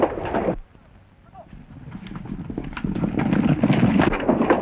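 Horses' hooves drum in a fast rhythm, building louder as the horses gallop closer in a 1935 Western film, with a voice calling out under the pounding.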